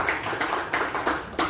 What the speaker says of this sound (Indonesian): tepuk tangan ya dengan guru kelas